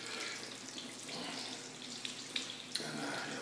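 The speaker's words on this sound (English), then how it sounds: "The water comes from the top there." Water pours steadily into a jacuzzi tub at a gym, a continuous broadband rush with a few small splashes and clunks near the end, close and fairly loud, with no talking.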